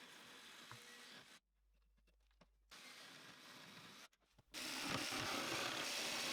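A band saw cutting through pallet wood in bursts, a raspy grinding buzz with quiet gaps between passes, the final cut louder and closer, no voices.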